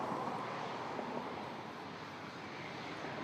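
An Airbus A330 airliner departing for Vienna produces a continuous, fairly distant jet engine roar with wind-like rumble, steady throughout with no voices.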